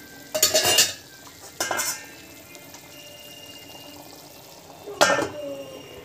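Utensils scrape and clatter against a pan in a few short bursts, with a quiet kitchen hiss filling the gaps between them.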